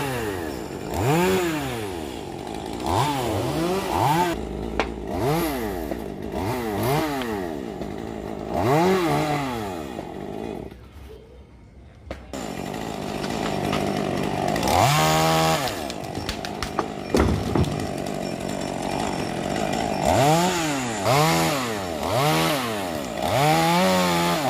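A chainsaw revs and bites through a jackfruit tree branch in repeated pulses, briefly dropping to idle midway before cutting again, loud and close with no talking.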